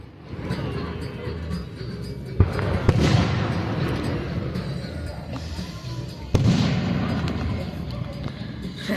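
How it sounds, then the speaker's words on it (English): Fireworks bursting in the Sonic Adventure video game, a dense run of booming explosions and crackling with two sharp, loud bangs standing out, continuous and close throughout. "Come on, more fireworks."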